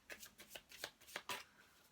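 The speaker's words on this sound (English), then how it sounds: "I've already shuffled this," A deck of Mythic Tarot cards is shuffled by hand, a quiet series of quick papery riffles and flicks in close, uneven bursts over two seconds.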